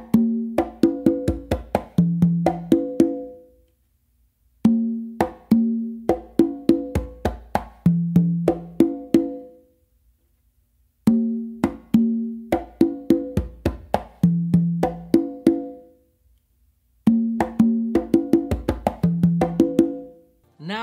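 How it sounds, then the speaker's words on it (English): A conga plays the full Georgie Padilla tumbao, with quick slaps and ringing open tones in a steady repeating pattern across four phrases separated by brief pauses, close and loud with no talking. "Now to put the whole tumbao together, it's going to sound like this."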